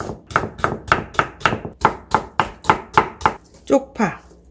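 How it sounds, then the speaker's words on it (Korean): Half a green bell pepper sliced thinly into strips with a knife on a cutting board, about a dozen crisp, evenly spaced close chops, followed by a couple of softer, scraping sounds. "이게 절반을 이렇게 얇게 여기 채 좀 썰어주세요."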